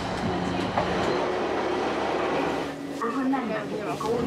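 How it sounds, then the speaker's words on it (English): A scenic coastal train running from St Erth to St Ives in Cornwall rumbles steadily at close range, with a faint high squeal near the end and people talking over the noise. "we're going to get the nice scenic coastal train down into St Ives"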